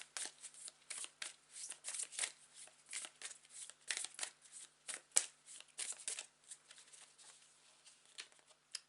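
Tarot cards shuffled and handled up close during a reading, producing a steady run of crisp papery flicks and soft riffling taps that come in uneven bursts, fairly quiet, with no talking over them.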